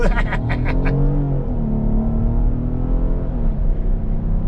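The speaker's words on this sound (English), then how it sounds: "This thing gets up and goes pretty good for a big car." A 2023 Kia Carnival minivan engine hums and rises steadily as it accelerates, a loud, continuous rumble close by, with a brief voice at the start.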